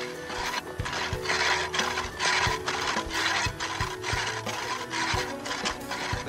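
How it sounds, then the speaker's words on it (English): Dry core drilling into stone gives a harsh rasping grind that surges in rhythmic strokes about every half second, with sharp knocks between them, loud and close without talk. "dry drilling goes on"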